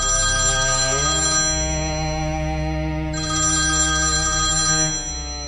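A mobile phone ringtone rings steadily and loudly inside a movie theater, a sustained electronic melody with a brief shift partway through, heard alone without talk.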